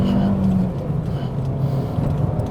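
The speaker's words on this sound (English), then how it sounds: "The turbo comes in really quite smoothly and progressively" A 170PS turbocharged Alfa Romeo MiTO QV hatchback accelerates, its engine drone shifting in pitch as it pulls, heard from inside the car beneath someone talking.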